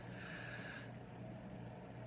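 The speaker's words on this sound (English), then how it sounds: "Gonna give that a little spray." Hairspray hisses from an aerosol can onto teased, voluminous hair in a pinup updo, one steady spray lasting just under a second, close and clear, then stopping into quiet room tone.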